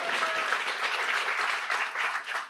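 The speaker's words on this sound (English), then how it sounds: "You can absolutely clap for that." An audience at an ACLU event claps steadily for a law professor's accomplishments, continuous even applause at moderate level throughout.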